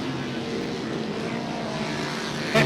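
Unrestricted flat track racing motorcycles held wide open around a half-mile dirt oval at a Grand National Championship main event in Lima, a steady loud engine drone blending several bikes, with a brief louder burst near the end.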